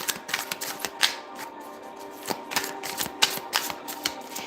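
Tarot cards drawn and handled by hand, giving a quick irregular series of crisp taps, flicks and shuffling snaps close up, with no talking.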